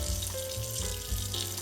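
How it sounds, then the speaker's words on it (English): Tap water runs steadily and loudly into a sink, a constant splashing rush with no talking. "I'm going to run some water in here"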